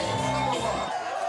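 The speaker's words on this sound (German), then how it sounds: "Sobald der Name Greenhouse fiel, geriet das Publikum in Ekstase." An audience erupts into ecstatic cheering and whooping at an award announcement, a dense, steady roar of a crowd heard close throughout.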